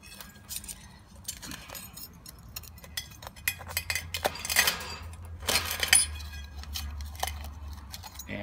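Sea urchin shell being cut open with a blade, a scattering of small crisp clicks and cracks of spiny shell over several seconds, faint and close, with no talking.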